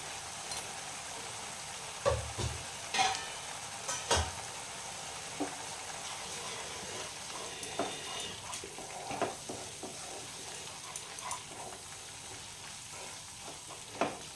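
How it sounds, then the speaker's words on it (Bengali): A spice paste with turmeric and chilli powder frying in a pan for prawn malai curry, crackling steadily with a few louder scraping stirs near the start, no talk. "এটা একটু ভালোভাবে কষতে হবে মশলাটা।"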